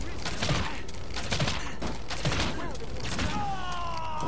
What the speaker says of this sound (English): get the triple shot ready